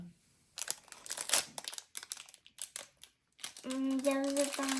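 Plastic crinkles and rustles in quick bursts as a packet is handled up close, followed by a short, bright child-like voice.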